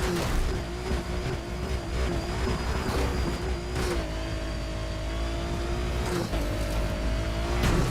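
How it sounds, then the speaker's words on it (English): A car engine revs and accelerates in a video game during an off-road drive, a continuous loud drone with rising and falling pitch and a few sharp bursts, no talk over it. "This car sounds so cool when it's like accelerating."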